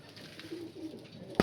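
Pigeons at a breeding loft in Dankuni, Hooghly, give soft low coos in a short close murmuring phrase, ending on a sudden sharp knock.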